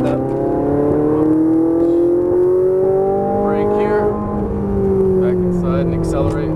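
Ferrari 458 Italia accelerating hard on a race track in Las Vegas, its engine note rising in pitch and holding loud and close, with a driving instructor talking over it.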